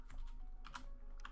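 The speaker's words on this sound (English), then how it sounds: "So we'll type commit again." Faint typing on a computer keyboard, a few quick key clicks in separate bursts over a low background hum.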